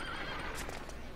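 A horse whinnies in a Dragon Quest VIII game scene, a single loud, close neigh holding steady for about a second over a dense game soundtrack.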